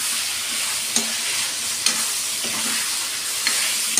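Chicken frying with ginger garlic paste in a pan, a loud, continuous sizzle close up, broken by a few sharp spatula knocks as it is stirred.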